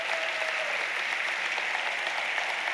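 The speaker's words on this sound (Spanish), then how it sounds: "déle un aplauso al Señor, pero fuerte" A church congregation claps loudly and continuously during a sermon, a brief, dense wall of applause with no break.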